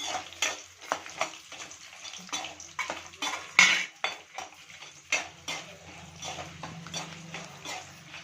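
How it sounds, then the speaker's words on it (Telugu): Chana dal and urad dal fry in a pan while a spoon stirs them. Repeated scraping clinks sound close over a soft, steady sizzle, with no speech. "పచ్చి శనగపప్పు మినప్పప్పు వేసుకొని బాగా కలుపుకోవాలి"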